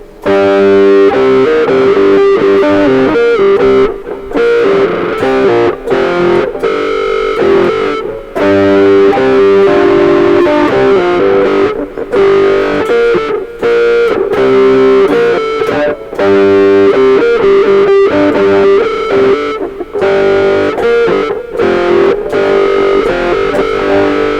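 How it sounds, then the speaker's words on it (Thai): Loud distorted electric guitar playing continuously, its tone sweeping and swelling as a wah pedal rocks back and forth, with no talking. "การเล่นวาวนะครับ"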